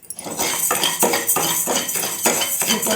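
Moong dal and raw rice dry-roasting over low to medium heat in a pan, stirred with a utensil: repeated scraping and rattling strokes of grains against metal, close and loud, with no voices.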